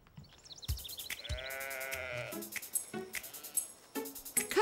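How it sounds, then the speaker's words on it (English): A cartoon sheep gives several clear, wavering bleats in a row, close and fairly faint, separated by short pauses, with no talk over them. "Do you want to go see the sheep with me?"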